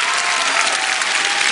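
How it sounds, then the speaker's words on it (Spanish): A television studio audience at a music competition show applauds, a thick, even wash of many clapping hands held at a constant loud level throughout. "Maravilloso el aplauso"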